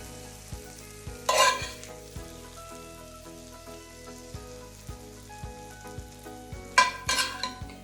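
Onion and mushroom sauté in a pan, with two bursts of bright sizzle as they hit the hot surface, between quieter stretches of faint crackling over steady rhythmic thumps from background music.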